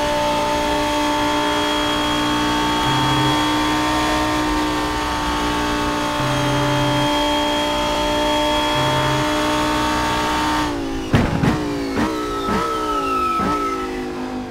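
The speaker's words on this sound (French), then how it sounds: "C'est juste parfait le bruit de cette Lamborghini Huracan." Lamborghini Huracan GT3 race car in the rFactor 2 sim, engine screaming at high revs in a loud sustained wail, then dropping through quick gear changes and rising again toward the end, no voices.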